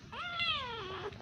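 A cat gives a single drawn-out meow, rising and then sliding down, fairly close and soft against a quiet background.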